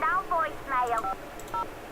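Telephone keypad dialing in the Nancy Drew Scarlet Hand video game, a quick series of clear electronic tones, with short pauses between the groups of beeps.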